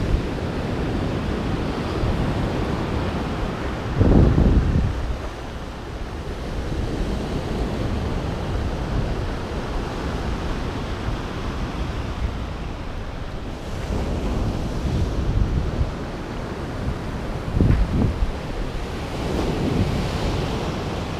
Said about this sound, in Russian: с берега Черного моря, Махинджаури, предместье Батуми, Аджария, Грузия